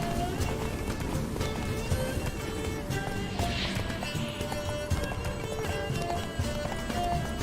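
Horse galloping in The Witcher 3: Wild Hunt, a fast steady clip-clop of hooves close by, running under a continuous game score, with a brief whinny partway through.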